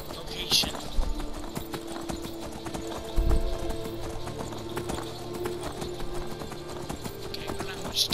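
Rhythmic hoofbeats of a galloping horse over a busy game soundtrack, with a brief whinny; steady and loud throughout.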